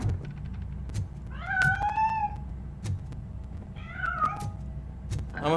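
Two clear, rising-and-falling meows from a cat in the RoboCop: Rogue City video game, close by and distinct over a quiet low background hum.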